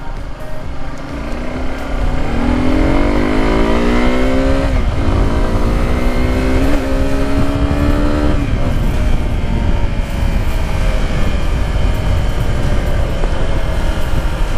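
A 2019 Suzuki Gixxer 250 motorcycle engine runs under heavy wind rush, its pitch stepping up through several gear changes before easing down as the bike decelerates, loud and close throughout.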